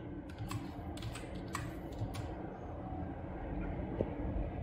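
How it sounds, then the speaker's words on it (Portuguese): A password being typed on a computer keyboard: a quick run of key clicks in the first half, then fading, faint over a low steady hum. "Caso você queira uma senha, você digita a senha."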